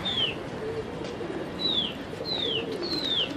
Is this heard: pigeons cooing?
yes